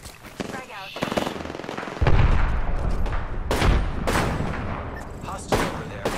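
A frag grenade and heavy gunfire boom and crackle in a shooter video game, a deep blast landing early, then rattling bursts and further thuds over a player speaking.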